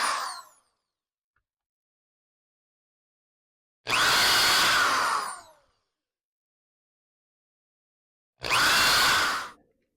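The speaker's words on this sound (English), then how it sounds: "So I'll just put the drill in place and go." Power drill boring through a plywood bathroom cabinet in a Pleasure Way Ontour camper van, three separate loud bursts of whirring and grinding, close by, with silent pauses between them.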